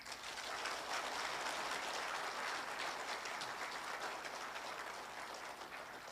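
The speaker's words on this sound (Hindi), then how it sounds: "अगर yes है तो जोर से ताली हो जाए।" A crowd at a speech event claps continuously, a dense and fairly distant wash of applause that holds steady before easing slightly near the end.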